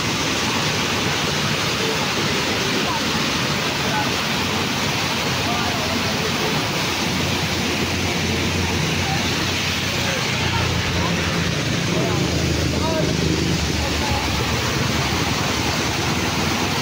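Flood water rushes through a river in Sta. Rosa, Laguna, as a loud, unbroken roar of churning water. It stays close and constant from start to finish.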